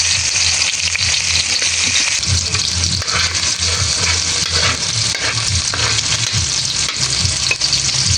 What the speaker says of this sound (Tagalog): Dito po sa isang kawali ay inisa ko na po itong bawang.